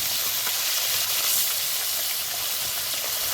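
Bhola fish frying in hot oil, a loud, steady, close sizzle that holds evenly from start to finish with no talking.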